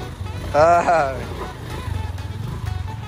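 A small motorcycle engine idles and putters with a steady pulsing rhythm in Honduras, close by, while a person speaks over it briefly.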